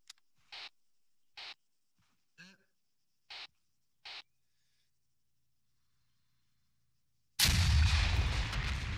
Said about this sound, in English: Detonation incoming.